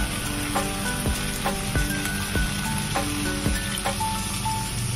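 Water goes into a kadai of tomato masala for a rohu fish curry, setting off a loud, steady sizzle and bubbling crackle with regular spoon-stirring knocks, close up, with no talk.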